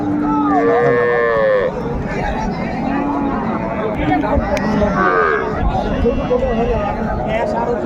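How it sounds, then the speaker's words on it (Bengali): Cows low several times over the steady chatter and bustle of a noisy crowd at a cattle market in Raniganj, Dinajpur, their drawn-out moos rising above the din. "এটা হচ্ছে গাভি এটা বাছুর বেটি বাচ্চা"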